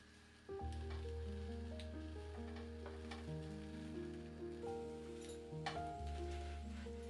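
A Vietnamese banh xeo crêpe fries in a pan, giving a steady, soft sizzle beneath louder background music that carries on throughout.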